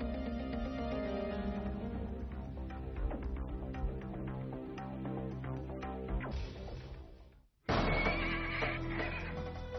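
Horses at a British army camp outside the tents, loud whinnying and neighing with some hoof clatter, close and continuous before a brief drop and a sharp return.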